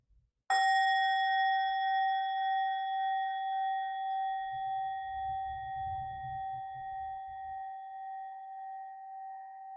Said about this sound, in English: I'll use the sound of a bell here to begin and end our practice together